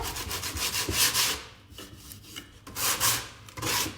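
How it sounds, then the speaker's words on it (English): 80-grit sandpaper rubbed over a previously varnished surface in repeated back-and-forth strokes, a close, gritty scratching that pauses briefly between passes, with no talking. "I'm using an 80 grit piece of sandpaper,"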